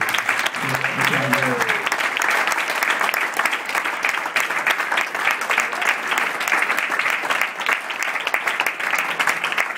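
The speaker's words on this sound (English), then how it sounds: "So can we have a massive round of applause?" Loud, sustained crowd applause for the man of the match at a post-match interview, continuous heavy clapping with a brief voice heard beneath it early on.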